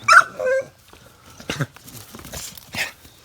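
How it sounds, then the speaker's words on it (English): A young puppy whimpers with high, thin, wavering whines packed into the opening half-second, followed by softer snuffling and a few faint yelps spread across the rest of the moment. "they're still puppies and they're very rambunctious"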